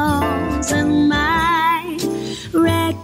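Song MP3 loaded into xLights playing back: a sung vocal melody with vibrato over instrumental backing, continuous and fairly loud with no talk over it.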